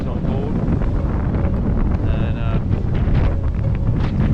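Strong wind of about 30 knots gusting 36 roars across an Outremer 52 sailing catamaran at sea under three reefs, a steady loud buffeting with wind noise on the microphone, and a brief spoken word.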